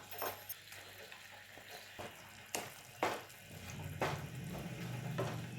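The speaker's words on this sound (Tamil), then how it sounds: "இப்போது இந்த பேஸ்ட்டும் இந்த கருவேப்பிலையும் நல்லா ரோஸ்ட் ஆகட்டும்." Curry leaves and ground paste roasting in ghee for prawn ghee roast, crackling and sizzling close up with several sharp bursts of spatter and a rising steady fry, no voices.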